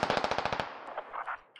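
In the video game Squad, a machine gun fires a rapid burst of about ten rounds close by, then more distant shots echo and fade.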